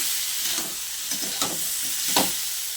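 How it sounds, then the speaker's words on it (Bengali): Onions and prawns fry in a pan with a continuous hissing sizzle, broken by a few soft stirring scrapes, close and moderately loud. No voices. "এইবার আমি চিংড়ি মাছটা দেব। দেখো, আর পেঁয়াজটা একটু ভালো করে না ভেজে নিলে হবে না।"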